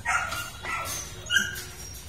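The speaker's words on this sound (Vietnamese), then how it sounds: "hôm nay có ba em Rottweiler một đực hai cái" Rottweilers, a male and two females, bark and yip at a kennel, several short bursts at moderate distance over a steady low background rumble.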